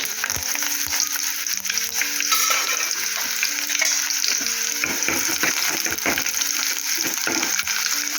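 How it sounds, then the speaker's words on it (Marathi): Steady crackling sizzle of onions frying in hot oil with browned garlic, with occasional stirring clatter, continuous and fairly loud throughout. "लसूण लाल झाली आहे आपण त्यात आता कांदा टाकू"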